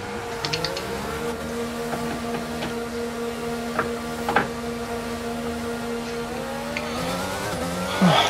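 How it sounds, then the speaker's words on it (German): An F1 car in the F1 22 racing game pulls out of the garage, a steady engine drone holding a constant pitch over a faint hiss, with small mechanical clicks and a louder rising burst at the end. "Achtung, der Wagen fährt jetzt aus."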